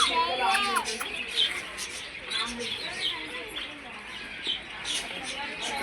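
Small birds chirp and tweet in scattered short calls throughout, moderately close over a steady outdoor background, with some children's voices and talk mixed in.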